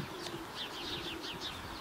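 Pigeons returning from a winter race circle overhead, giving a few soft, faint coos and light chirps with a hint of flapping wings, distant against quiet outdoor background.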